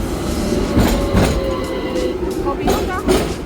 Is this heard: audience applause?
no